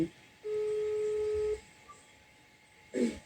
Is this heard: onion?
no